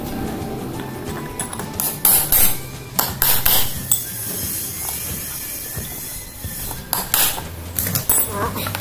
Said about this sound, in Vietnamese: Đây mình đã dùng cái mũi khoan dài nhóm bi ra.